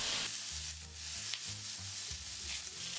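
Shrimp and thinly sliced pork belly, seasoned with salt and pepper, fry in a pan with a steady, close sizzle. Low stirring clunks sound under it.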